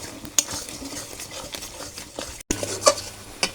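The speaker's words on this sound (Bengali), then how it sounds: "আমের মধ্যে গুড় দিয়ে কষিয়ে নিয়েছি," Mango pieces with jaggery being stir-fried in a pan, with spoon scrapes, clinks of utensil against metal and a soft sizzle, one brief pause midway, no talking.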